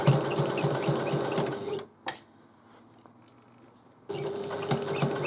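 Sewing machine stitching a half-inch seam on a bag, a close rhythmic whir that runs, stops with a single click, falls quiet for about two seconds, then resumes steadily.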